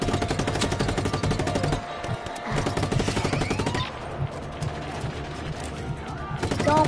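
Rapid automatic gunfire in the open-world action game Just Cause 3, loud, dense bursts of machine-gun fire with brief pauses between volleys, sustained throughout with faint talk underneath.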